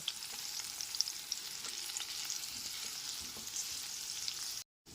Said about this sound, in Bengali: গ্যাসের ফ্লেমটা মিডিয়ামে রেখে আলুগুলোকে বেশ কিছুক্ষণ সময় নিয়ে লাল করে ভেজে নেব